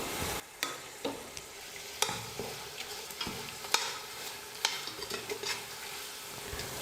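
Two chopped medium tomatoes being stirred and sautéed in a pressure cooker for mutton biryani: a faint, steady sizzle with irregular clicks and scrapes of a spoon, with no talk.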